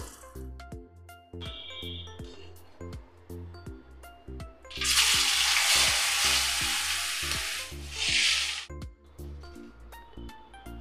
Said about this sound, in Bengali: পনিরটা ভেজে নেব, তাই একটু হলুদ দিয়ে দিলাম, একটু লবণ দিয়ে দিলাম।